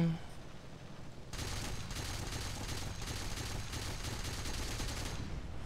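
Sustained rapid gunfire and hits on an Hs129B2 attack aircraft in War Thunder, a dense continuous burst of loud shots starting abruptly after a brief quiet moment and running for several seconds.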